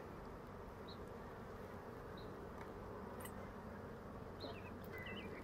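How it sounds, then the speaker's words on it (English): Bees buzz around an opened backyard beehive during a hive inspection, a soft, continuous insect drone with a few faint chirps and bright clicks over a low outdoor background. "Dad, look, a bee just went."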